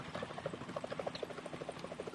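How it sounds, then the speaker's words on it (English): Helicopter in Metal Gear Solid 2 approaching, its rotor beating in a steady, rapid chop that stays fairly even and moderately loud throughout, with no talking. "Is that a chopper I just heard?"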